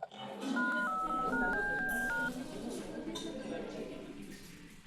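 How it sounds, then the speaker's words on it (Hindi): A quick run of electronic dialing beeps, several distinct tones in succession, followed by quieter background noise and faint voices. "अंकल को फोन करता हूं।"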